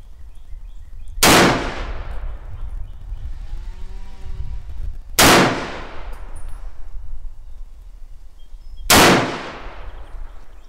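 Three loud M1 Garand rifle shots fired with a ported gas plug, spaced about four seconds apart, each a sharp crack with a ringing decay over low outdoor background rumble.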